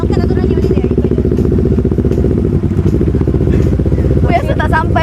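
A motorcycle engine idling loud and close in a steady rumbling throb while learners practise riding, with people talking over it.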